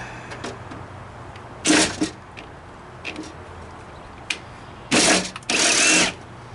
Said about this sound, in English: Helps if you put it on drill mode.